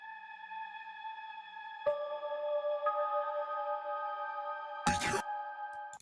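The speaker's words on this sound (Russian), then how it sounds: "Вот так звучит мелодия с обработками." Synthesized horror trap melody with EQ cutting lows and highs plus reverb, sustained tonal layers shifting in steps, a burst of noisy texture near the end, no speech.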